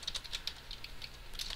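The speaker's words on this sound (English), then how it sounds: "So we can do this by typing" Rapid keystrokes on a computer keyboard while typing Java code, a steady run of light, close clicks with no talking.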